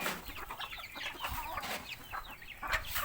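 Several chickens cluck and chatter continuously nearby, a busy flock murmuring without pause.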